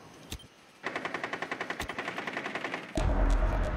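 Machine gun fire in the Rainbow Six Siege game: a fast, steady burst of evenly spaced shots lasting a couple of seconds, preceded by two isolated cracks and followed by a dense roar.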